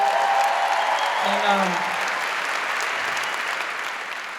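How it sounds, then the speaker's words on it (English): Stand-up comedy crowd applauding the comedian's mother, steady full-room clapping that holds evenly and slowly fades, with a brief voice heard over it early on. "Round of applause for my mom."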